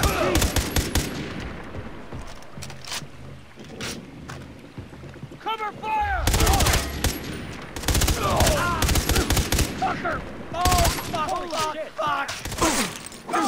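In the Far Cry 3 video game, bursts of gunfire crack and rattle among engine noise and game effects, with a voice talking over the action throughout.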